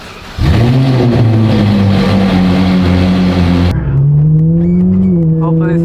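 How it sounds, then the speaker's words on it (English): A Honda NSX sports car engine cold-starts up close, catching with a loud burst and settling into a high, steady fast idle that wavers slightly, heard plainly and alone for several seconds. "Cold start."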